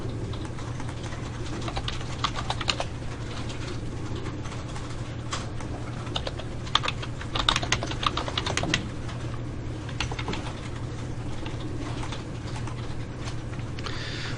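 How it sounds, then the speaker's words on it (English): Rapid typing on a computer keyboard while writing Java code, a near, continuous patter of light key clicks in irregular bursts with brief pauses, steady and unaccompanied by speech. "So this is a lot of typing"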